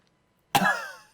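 A single sharp cough bursts out after a moment of near silence, with a harsh onset that fades away over about half a second.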